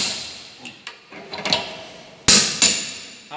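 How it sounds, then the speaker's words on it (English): Hammer taps on a workpiece as it is seated in a machine vise on a shaping machine: a few sharp metallic knocks spaced irregularly, two louder strikes near the end, with workshop noise between and no talk. "we have to tap over the workpiece to sit properly in the vise"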